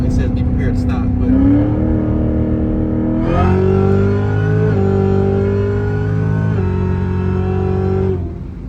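The 800 HP Cadillac CTS-V race car engine revs up loud and close from inside the cabin, its pitch climbing in rising surges and holding steady before easing off.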